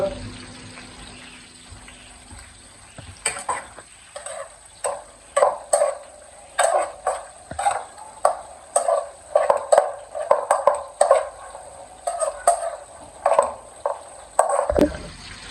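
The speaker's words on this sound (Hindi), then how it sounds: "अब इसे भी मैं अच्छी तरह मिक्स कर लूँगा।" Spices stirred into eggplant and potatoes frying in a pan, spatula scraping in a steady run of close, repeated strokes over a soft sizzle, with no talking.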